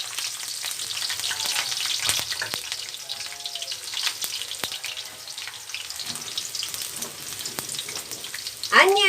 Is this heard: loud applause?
no